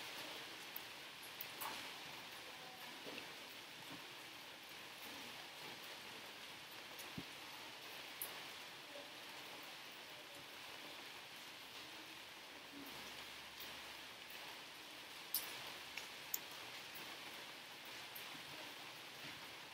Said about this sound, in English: Just take a moment and listen to the provision and the beauty of rain